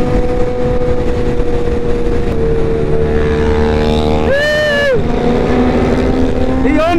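A Suzuki GSX-R 750 motorcycle engine hums steadily and loud while riding, with a rising whine as revs climb briefly near the middle, alongside wind and road noise.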